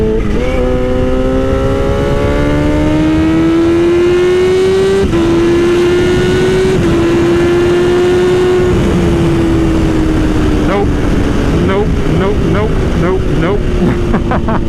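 A re-flashed car engine pulls hard through the gears, its tone climbing steadily with each shift in a loud, close, continuous acceleration, with talk over it inside the cabin.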